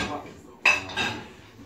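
Dishes and cutlery clatter as a dishwasher is loaded in a home kitchen, with a sharp clink followed by a second burst of rattling, fairly close and moderately loud.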